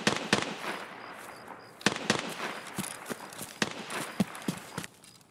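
Gunfire in a first-person shooter at night: a scattered series of sharp, loud cracks at irregular intervals, some in quick pairs, over a low background rumble.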